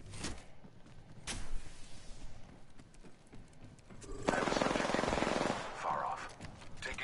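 Gunfire from the video game Apex Legends crackles in short bursts, including a dense sustained volley midway. The shots sound moderately distant and mix with other game noise.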